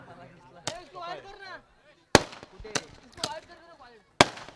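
Fireworks burst at a birthday celebration during a local cricket tournament, four or five sharp loud cracks spaced irregularly, with a voice speaking between them.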